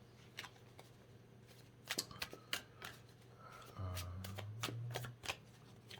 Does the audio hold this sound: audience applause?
no